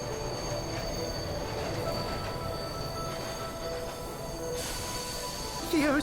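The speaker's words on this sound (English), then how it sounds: "Here comes that train." A train pulls in within the Bright Paw video game, a steady rumbling roll with high wheel squeal, brightening near the end as it arrives close by.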